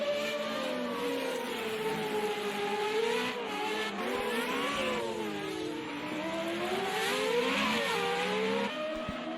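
An FR35 race car accelerating hard on the Long Beach street circuit, its engine note rising and falling continuously through gear changes at close, loud level for the whole stretch, with no talk over it.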